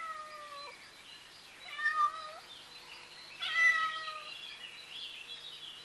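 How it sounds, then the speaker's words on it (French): A half-wild cat meows several times in a quiet indoor setting, with drawn-out, wavering cries; two louder calls stand out near the middle, the rest fainter and close by. "C'est un chat trop sauvage."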